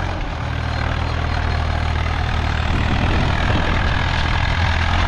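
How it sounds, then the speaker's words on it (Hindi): A second tractor's engine runs steadily in a field, a loud, continuous low rumble that holds an even drone throughout with no pauses. "अब एक बार दूसरा ट्रैक्टर चलवा के देखेंगे"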